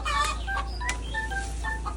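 A chicken gives a few short clucks over steady low hum and ambient noise, moderately close, in a vegetable garden setting.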